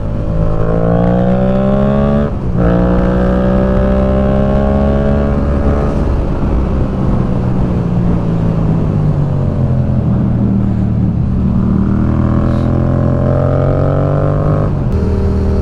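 A friend's new motorcycle revs hard and accelerates close by, the engine tone climbing through several gears in loud, sustained passes.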